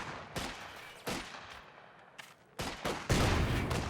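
An artillery barrage in Company of Heroes 2 lands as a string of heavy booming impacts, several sharp blasts spaced irregularly and then a dense louder cluster at the end, with no talking.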